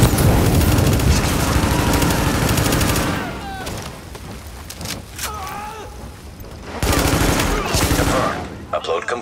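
Gunfire in The Division video game: dense bursts of automatic weapon fire and shots over a busy combat mix, easing mid-clip and then picking up again in heavy volleys, with faint voices in the background.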